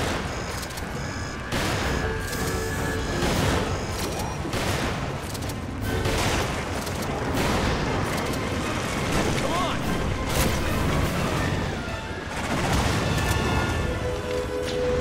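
Repeated gunfire and booming blasts fill a Resident Evil 5 fight scene, loud and continuous, with players talking over the shooting.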